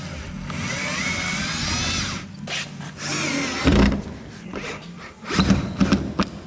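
Power drill driving the original screws into a fan switch on a BMW E36, a steady high whine rising and falling in bursts with a few clunks, loud and close.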